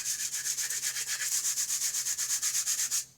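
Two wood blocks covered in sandpaper rubbed together as a percussion instrument, giving a loud, regular scraping rasp of about twenty even back-and-forth strokes that stops abruptly, with no voice.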